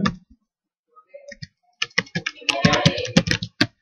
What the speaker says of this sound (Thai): แล้วก็พิมพ์เลยฝึกเขียน